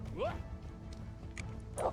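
A dog in the medieval video game Kingdom Come: Deliverance gives two short barks or yips a second and a half apart, moderately near over quiet game ambience.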